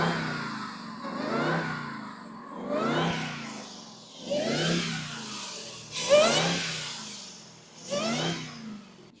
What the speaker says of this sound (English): underneath this hood is the beautiful Hellcat engine